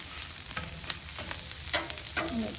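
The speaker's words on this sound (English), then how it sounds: "These onions are going to caramelize nicely on their own anyway." Onions frying on a Blackstone griddle over moderate heat for Philly cheesesteak, a steady close sizzle with occasional sharper crackles and light spatula scrapes, no voices.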